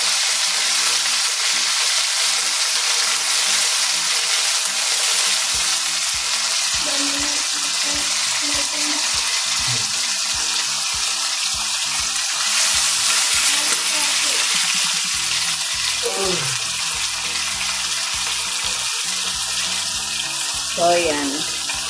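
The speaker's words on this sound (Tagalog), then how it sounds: "Gigisa ko po muna yung manok." Chicken pieces sautéing in a pan for chicken asado, a loud steady sizzle filling the clip, with occasional stirring clatter and a voice speaking under it.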